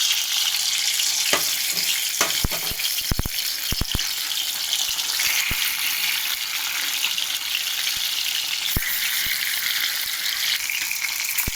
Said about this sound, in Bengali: তো দেখো তেলটা আমার গরম হয়ে গেছে, আমি ভাজবো এক এক করে।